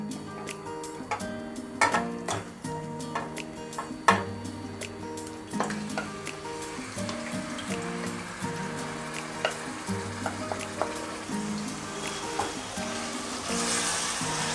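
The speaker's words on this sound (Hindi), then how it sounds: "ऑयल और घी गर्म हो जाने के बाद मैरिनेट किया हुआ चिकन ऐड करेंगे।" Marinated chicken sizzles and fries steadily in hot oil and ghee, with repeated stirring clinks and scrapes of a utensil against the pan, a few sharper knocks, and the hiss growing a little louder near the end.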